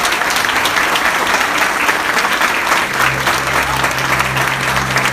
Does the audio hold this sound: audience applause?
yes